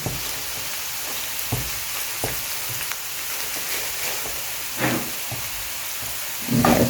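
Curry powder sizzling in a pan as it is stirred in, a steady close fry with soft scraping strokes and a louder burst at the end.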